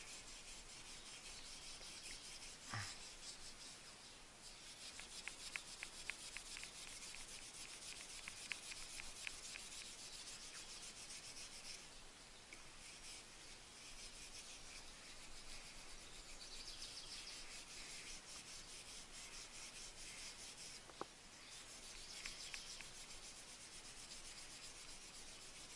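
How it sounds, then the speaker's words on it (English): A carbon steel knife's wooden handle is scrubbed clean of grease and grime, making a steady, continuous rubbing hiss with rhythmic strokes. Faint birdsong sits in the background. "Clean it, scrub as much of that grease and grime and whatever you have on there off."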